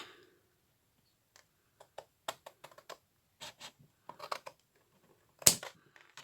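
Close, quiet cutting of craft material while making a small storage case for artist trading stamps: a sparse series of short crisp snips and scratches, irregular and spaced out, ending with one sharper louder click, with no talking.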